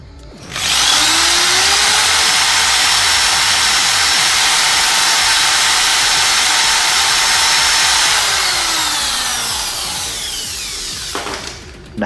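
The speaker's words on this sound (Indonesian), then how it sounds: "Ternyata pisau TNI ini tidak mempan dibor." A power drill grinds loudly and steadily against an Indonesian military (TNI) knife blade, a close whining drone that slowly eases before stopping with a final clunk.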